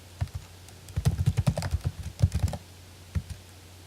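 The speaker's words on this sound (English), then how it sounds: "And here we have to type our domain name." Keystrokes on a computer keyboard while entering a domain name during DNS server setup on Ubuntu Server, irregular bursts of close clicks with short pauses between them over a faint background hum.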